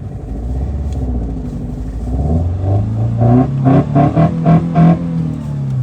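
An old rally car engine revs hard and close, its pitch climbing, then several sharp throttle blips pulse in quick succession.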